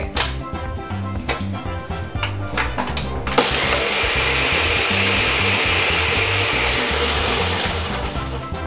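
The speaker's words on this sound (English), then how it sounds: "And now we're going to blend." A blender crushing ice while mixing a Malibu rum cocktail, starting with a few loud clattering bursts before settling into a steady, close, continuous grinding whir that holds for several seconds.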